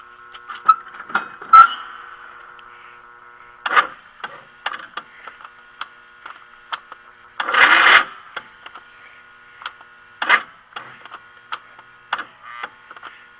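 Cub Cadet mower fuel pump pushing fuel through a hose, irregular ticking pulses and short buzzy bursts of clicking against near silence.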